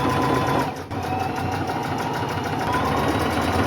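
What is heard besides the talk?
sewing machine stitching a rolled hem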